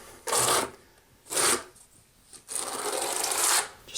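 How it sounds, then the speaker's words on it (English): A trowel's straight edge spreads and presses tile mortar into the knobs of an uncoupling membrane mat, in three close, short scraping strokes separated by quiet pauses, with no talk. "use the straight side of your trowel just to fill in these areas"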